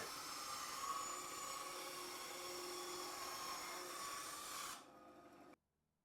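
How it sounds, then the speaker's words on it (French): A Scheppach HBS30 band saw cuts through solid oak, a steady high-pitched whine under load that stops abruptly as the cut ends, leaving a brief motor hum before silence. "Et maintenant, on va couper le brut, le chêne, le massif, le vrai bois."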